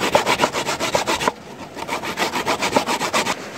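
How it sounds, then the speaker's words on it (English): Coconut being grated by hand outdoors by a riverside, a fast rhythmic rasping scrape repeated in quick strokes with a brief pause partway through, close and steady with no speech. "I'm already started grating the coconut here."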